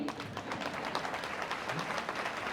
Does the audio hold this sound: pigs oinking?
no